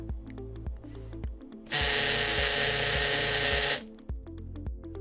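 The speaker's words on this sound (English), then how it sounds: "at this stage you can place the tool into the high speed mode to run the saw." An osteodrive MCU-470 surgical saw whirs in high speed mode in a bright, steady burst lasting about two seconds, with faint clicks and taps of handling before and after.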